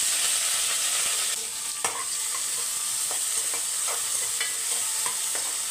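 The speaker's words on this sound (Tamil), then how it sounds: "இப்போ வெங்காயம் வதங்கிட்டோம்." Steady, bright sizzling of onions frying in a pan with green chillies and curry leaves, with occasional soft scrapes and clicks from stirring, close by and without talk.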